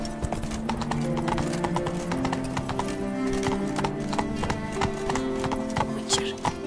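Hooves of Geralt's horse Roach clip-clopping in The Witcher 3, a steady trotting rhythm of crisp, close hoofbeats on hard ground over a low ambient drone and music bed, with a brief whinny.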